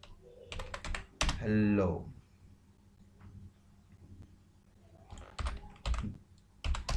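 Computer keyboard typing while coding a Java Swing program, quick bursts of clicky keystrokes near the start and end, with a brief spoken word and some quiet pauses between.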